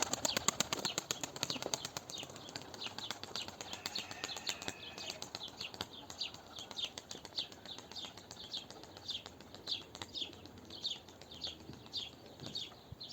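Rapid wing flaps of a young pigeon in flight flutter steadily for several seconds, with intermittent bird chirps and faint background noise throughout.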